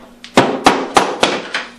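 Five sharp metallic taps of a hammer on the back of a door hinge pin, evenly spaced and close by, each ringing briefly.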